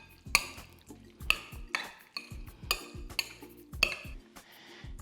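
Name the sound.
stirring lomi lomi salmon ingredients with sesame oil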